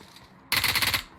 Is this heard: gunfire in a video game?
yes